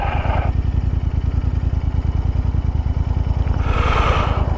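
Royal Enfield Interceptor 650 Mark 2 motorcycle being ridden through a town toward Long Mynd, a steady rumbling engine drone with thudding low pulses and rushing wind noise that swells near the end.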